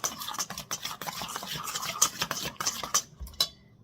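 Italian seasoning and pepper being stirred into a mixture for a ham and cheese pizza, a close spoon scraping and clinking busily against a bowl, steady and continuous with brief sharper taps.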